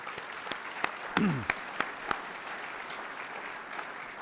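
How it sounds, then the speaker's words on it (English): Audience applause at a university student honors and awards reception, welcoming Dean Fields as the incoming Vice President of the Division of Agriculture; steady crowd clapping with a few sharp, louder claps and a brief voice near the middle. "I think we need to give him a round of applause"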